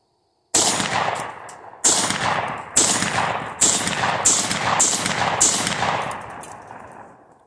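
A Panzer M4 shotgun fires seven sharp, loud blasts, each trailing off in a long echoing decay, spaced about a second apart at first and then coming quicker toward the end.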